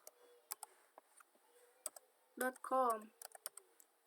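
Keystrokes on a computer keyboard as a ping command is typed into a MikroTik router terminal, a run of light clicks spread across the clip with a short burst of voice in the middle.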